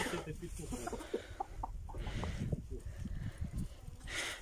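Soft, scattered clucking from chickens nearby, with quiet farmyard rustling and faint voices in the background.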